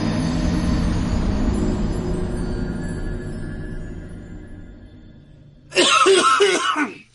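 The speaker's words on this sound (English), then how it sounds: "let me cough" A rumbling background fades over several seconds, then a few harsh throat-clearing coughs burst out close by near the end.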